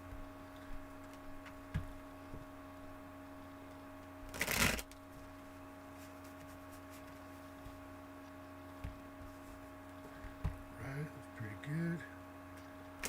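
Tarot cards are shuffled in a burst of rapid riffling, with a few lighter shuffles later over a quiet background hum.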